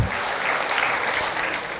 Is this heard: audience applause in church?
yes